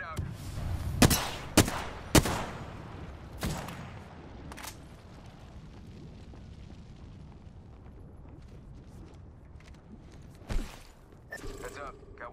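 Gunfire in the game Apex Legends, several loud separate shots in quick succession at first, then a quiet stretch with faint background game sounds and another shot and rattling near the end.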